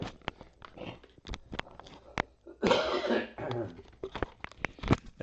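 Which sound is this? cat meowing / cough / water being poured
cough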